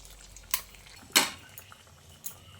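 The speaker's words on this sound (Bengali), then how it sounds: "এবার এদিকে যে রান্নাটা হচ্ছিল তার মধ্যে এই তরকাটাকে ঢেলে দিচ্ছি।" A few sharp metallic clinks and scrapes of a utensil against a pan as fried onion tempering goes into a potato and drumstick curry, spaced out over a quiet background.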